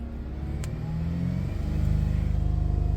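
A car engine idles, then is revved up and held at a steady 2,000 rpm during an alternator test in a driveway, its hum rising and settling into a firm, even drone.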